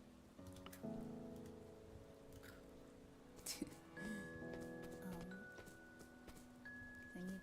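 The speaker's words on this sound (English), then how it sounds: "I hope it stops raining soon." Rain patters steadily in the post-apocalyptic farming game Doloc Town, a soft constant hiss under sustained game music tones, with a few brief clicks from the interface and no talking.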